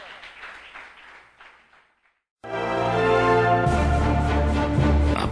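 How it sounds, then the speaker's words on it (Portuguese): Church congregation applauding: a voice fades out, a beat of silence follows, then loud sustained clapping with a sung or shouted musical layer surges in and continues. "Quem pode aplaudir ao Senhor e falar, Abba, Pai?"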